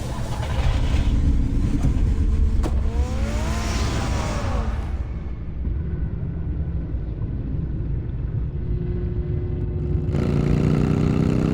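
Car engine in the Batman Telltale Series game, revving loudly and pulling away, its pitch rising and falling as it accelerates before fading to a quieter hum, then swelling again at the end.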